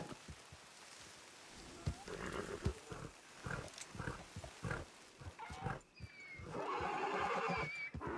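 A horse in the Red Dead Redemption video game neighs and whinnies loudly in several bursts, mixed with other animal calls and hoof sounds, with no talk heard.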